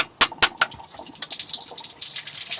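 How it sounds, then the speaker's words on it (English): Water escapes from a broken seal on a Beta 43 engine water pump aboard a narrowboat: a few sharp knocks, then a steady, close spraying and trickling hiss. "You can hear the water."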